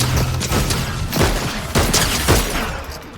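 Repeated sharp marksman rifle shots in the video game Fortnite crack out at irregular intervals over a steady low rumble, each followed by a brief echoing tail, loud and close.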